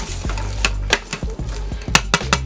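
A spoon stirs carrots, onion, celery and sausage in a Power Pressure Cooker XL pot for minestrone, with several close clanks and scrapes against the metal in an uneven rhythm.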